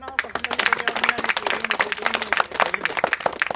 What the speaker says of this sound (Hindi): मैडम के लिए एक जोरदार ताली बजाएं